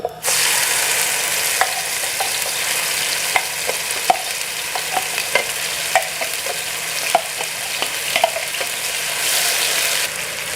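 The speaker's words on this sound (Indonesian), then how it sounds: "Kita tumis bumbu halusnya." Ground spice paste for chicken opor sautés in a pan with a constant hissing sizzle, punctuated by regular taps and scrapes of a spatula stirring against the pan; no one speaks.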